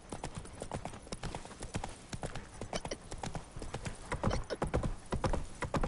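Roach the horse trots in The Witcher 3, hooves clip-clopping in a quick, uneven rhythm that stays close and clear, with a brief whinny-like note and no speech.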